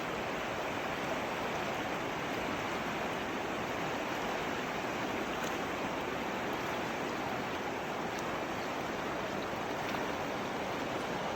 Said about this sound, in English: if you can hear me over the river's roar